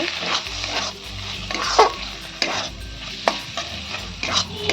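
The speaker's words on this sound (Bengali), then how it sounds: "চিংড়ি মাছটা দিয়ে দেবো দিয়ে ভালো করে আমি নেড়ে নেব" About 150 grams of cleaned shrimp fry in a pan for potol dorma, a loud close sizzle under a low hum, punctuated by several scraping stirs and clanks of a spatula, no one speaking.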